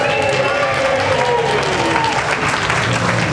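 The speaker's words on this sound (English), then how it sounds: "Round of applause for the kids." Loud, sustained applause from a large outdoor festival crowd at Afton Down, Isle of Wight, dense clapping with some cheering mixed in, steady throughout.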